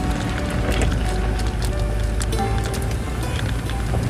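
A Scorpio-N 4x4 driving through a water crossing on slushy Chanshal Pass, with a continuous rushing, splashing wash and rumble throughout, steady and close.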